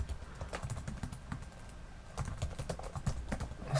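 Typing on a computer keyboard while filling out a web form, a faint, irregular patter of quick key clicks in short bursts with brief pauses, close and alone in a quiet room.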